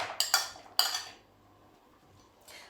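Utensils clink against a bowl while Olivier salad ingredients are stirred together, a few sharp scraping clatters close by followed by quieter handling.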